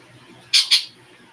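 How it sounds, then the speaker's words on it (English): A pet bird gives two sharp, loud, close squawking chirps in quick succession, the only sound in an otherwise quiet room. "He does that weird chirp."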